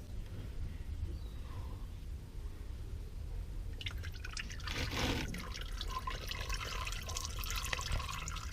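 Engine oil drains from a Toyota Aygo into a drain bowl, a faint trickling and dripping that becomes a fuller, steadier pour of liquid partway through.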